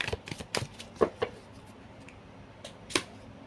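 Tarot cards are shuffled and spread out nearby in a few quick papery riffles and slaps, followed by quieter gaps and a final sharp card snap.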